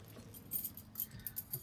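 Car keys jangle quietly at a classic car concours: a few faint, bright metallic shakes in short irregular bursts over soft outdoor background noise.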